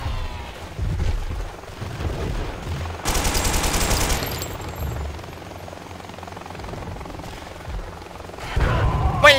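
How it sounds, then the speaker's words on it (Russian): A helicopter in a post-apocalyptic shooter game set around a swamp and chemical plant thuds overhead while bursts of machine-gun fire rattle and a loud burst erupts midway, all fairly loud with only faint talk. "Там еще вертолет."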